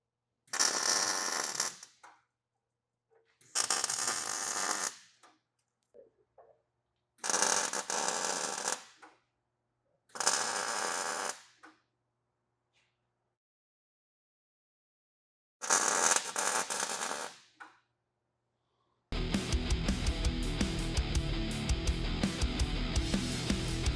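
Short hissing, crackling bursts of tack welding on frame mounts for a fourth-generation Toyota 4Runner bumper, five separate tacks of one to two seconds with silence between, then a steady loud noise at the end.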